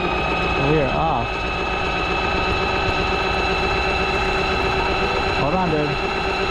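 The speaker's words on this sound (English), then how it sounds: "the motor is pulling out" A small electric motor drives a Feelfree kayak across the water with a steady, close humming drone. Two brief bursts of voices rise over it.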